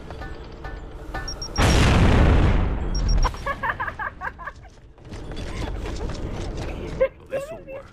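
A frag grenade explodes in the video game Gears of War: Judgment, a single loud close boom that swells and decays over about two seconds, followed by clattering game sounds and someone talking.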